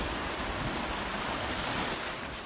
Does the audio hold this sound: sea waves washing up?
yes